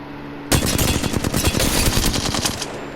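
Automatic gunfire in the video game Apex Legends, one loud sustained burst of rapid shots lasting about two seconds after a short quiet lead-in, alone with no talk.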